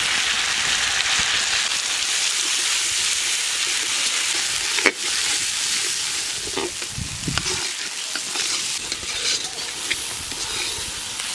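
Spice paste of chili and turmeric hitting hot oil with bay leaf and cumin in a pan, a loud, dense, continuous sizzle close up with a sharp clink of a utensil partway through.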